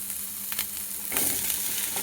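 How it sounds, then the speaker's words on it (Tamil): Chopped ridge gourd and onion sauteing in hot oil for a chutney, a close, continuous sizzle with brief stirring scrapes and a louder burst partway through. "நறுக்கி வச்சிருந்த பீர்க்கங்காயை ஆட் பண்ணி அதையும் நல்லா வதக்கி எடுத்துக்கலாம்."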